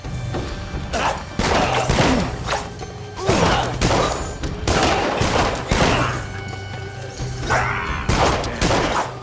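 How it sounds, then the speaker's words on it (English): An enemy's gun firing in the action RPG Dungeon Siege 3, heard as a dense, continuous barrage of loud, close gunshots and crashing impacts layered over one another for several seconds. "I've been shot by that bastard with the gun."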